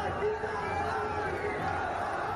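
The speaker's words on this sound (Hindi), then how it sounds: "बंद दुकान के गेट पर ही झड़प, उग्र होती भीड़ और साथ ही हाथापाई।" An agitated crowd clashes and scuffles at the gate of a closed shop in Purola, Uttarakhand, a dense, continuous roar of many raised voices and shouting held at a steady, fairly loud level throughout.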